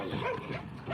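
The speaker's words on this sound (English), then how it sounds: "Ah, you are a very strong puppy." A kelpie puppy yips and barks in quick, excited bursts while tugging during a tug-of-war game, close and lively, with a person's voice faintly mixed in.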